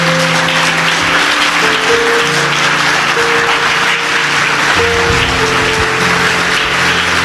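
A church congregation applauds and cheers in praise of Jesus, a loud dense wash of clapping that runs steadily throughout, with sustained organ or keyboard tones underneath.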